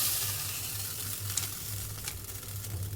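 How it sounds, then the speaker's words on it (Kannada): Chopped onion tempering in hot coconut oil sizzles and crackles steadily in a pan, close and continuous with no talking. "ಈರುಳ್ಳಿ ಒಗ್ಗರಣೆ ತೆಂಗಿನೆಣ್ಣೆಯಲ್ಲಿ ಕೊಡ್ತಾ ಇದ್ದೇನೆ"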